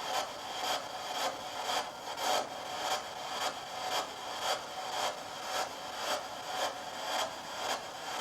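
Repeated rhythmic scraping, like something rough being dragged or rubbed back and forth on wood inside a fireman's museum, about two strokes per second, faint and steady with no voices.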